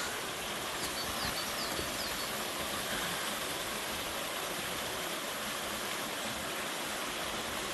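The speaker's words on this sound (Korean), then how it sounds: "봄눈이 녹고 계곡물이 늘어났습니다. 그 불어난 계곡물 소리." A mountain valley stream swollen with spring snowmelt rushes steadily near a temple, producing a dense, continuous roar of flowing water with no pauses or other sounds.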